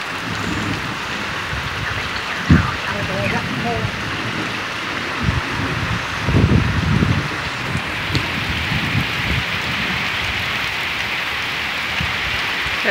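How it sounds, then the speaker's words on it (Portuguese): Heavy rain pours at a rural farm in Quixeramobim, water spilling from the roof gutter in a continuous loud rush, with a few louder thumps and brief voices in the background. "Tá derramando na biqueira."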